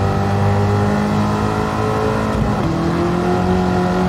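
A car in Gran Turismo 7 accelerates and drifts through a corner at Northern Isle Speedway, its engine a steady drone that dips and shifts pitch midway, loud and without talk.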